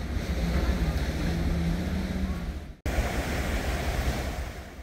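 Ocean waves wash steadily over pitted, hole-covered rocks around Seuldo lighthouse, a loud continuous surf roar mixed with wind buffeting the microphone, briefly cut off midway.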